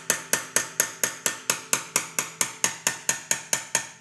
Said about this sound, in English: you have to chisel this little raised section off right here